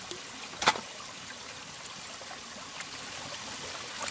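Cold creek water flows steadily over gravel of quartz and schist at a gold-panning site, a continuous close hiss and trickle with one brief splash near the start.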